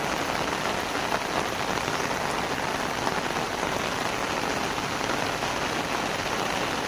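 Heavy rain pours without a break, a loud, dense, uniform roar of drops hitting surfaces, with no talking.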